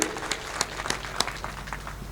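Audience applause at a live nazm recitation event, steady clapping from a crowd with sharper individual claps standing out, moderately loud and continuous throughout.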